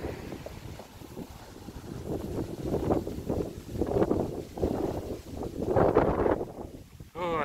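Gusty strong wind buffets the microphone during an evening walk along Côte-Saint-Luc Road, swelling and easing in rumbling waves across the whole stretch.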